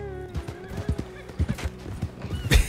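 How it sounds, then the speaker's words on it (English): Horse hooves clip-clopping at a gallop with a clear whinny near the end, from a horse in the Western video game Red Dead Online; rhythmic hoofbeats run throughout, close and moderately loud, with no talk. "My horse just ran into the fence."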